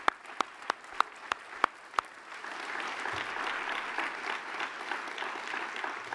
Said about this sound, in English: So one more round of applause for all the other award winners.